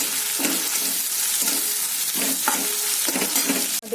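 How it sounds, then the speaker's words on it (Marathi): Fresh coriander leaves dropped into a hot tempering of oil with turmeric, ajwain and mustard seeds for vada pav filling, giving a steady close sizzle with rhythmic stirring scrapes and a sharp clink at the end. "आता मी इथे फोडणीला थोडीशी कोथिंबीर टाकत आहे।"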